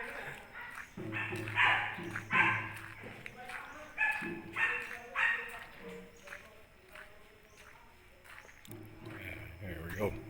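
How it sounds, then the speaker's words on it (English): A dog in a Siem Reap alley in Cambodia barks repeatedly in short, uneven bursts at moderate distance, mixed with busy street noise and people talking. "And of course, a barking dog."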